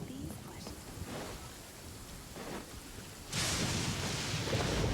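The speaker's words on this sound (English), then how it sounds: "It's storming in here." Steady rain and storm noise from a thunderstorm in Genshin Impact, a broadband wash that swells suddenly louder partway through, with soft rumbling bursts beneath; faint talk may sit under it.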